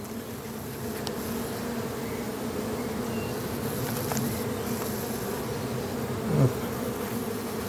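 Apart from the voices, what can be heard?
drone honeybee buzzing in a beehive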